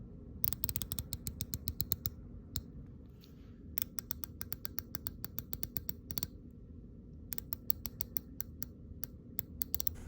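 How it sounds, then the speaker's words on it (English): The bezel of a Doxa Sub 300T dive watch ratchets as it turns, with bursts of crisp, close clicks in rapid runs separated by short pauses. "The bezel on this watch, you can hear it clicking here."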